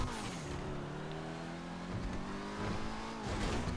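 A GTA 5 ETR1 stunt car climbs the container spiral, its engine droning steadily in a low gear with a strained, sustained tone, swelling slightly toward the end as it struggles upward.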